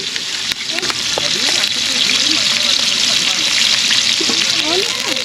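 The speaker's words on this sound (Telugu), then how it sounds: "వెజ్ బిర్యానీకి పోపు రెడీ అయింది" Tempering sizzles in hot oil for a vegetable biryani cooked at an outdoor picnic in Hyderabad, a steady loud frying hiss running throughout with scattered clinks, and voices talking over it.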